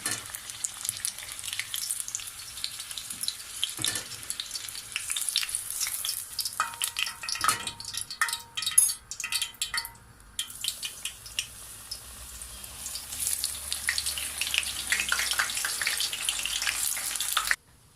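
Eggplant slices sizzling in hot oil as fried pieces are lifted out and fresh ones added, a continuous close crackle broken by brief clatters and stirring, ending abruptly.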